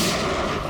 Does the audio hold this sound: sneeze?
no